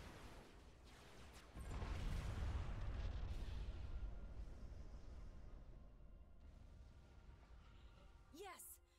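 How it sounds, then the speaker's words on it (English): A massive Colossus unit explodes in the real-time strategy game Supreme Commander 2, a deep, rumbling boom that swells and slowly decays over several seconds, ending with a brief sweeping electronic chirp. "Yes, the Colossus is down. The bigger they are, the bigger their explosion."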